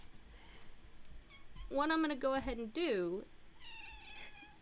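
A house cat meows insistently in two drawn-out, rising-and-falling cries, then a softer third call, close to the microphone while someone speaks quietly before and after.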